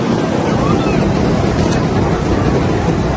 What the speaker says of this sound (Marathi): किती मोठी लाटात बघ ना भाई